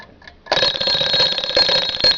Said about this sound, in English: That turns off the alarm.